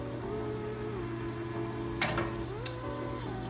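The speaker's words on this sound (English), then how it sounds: "I just added a little more of that cooking oil just so like, you know, your fish won't burn" Fish fries in extra cooking oil, a steady close sizzle with a couple of sharp crackles and a faint tonal hum beneath, no voices.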